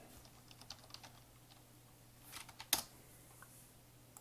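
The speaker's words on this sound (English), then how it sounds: "Let me just type it in." Soft, quick keystrokes on a computer keyboard patter irregularly at close range, with a sharper clack near the end and no talking.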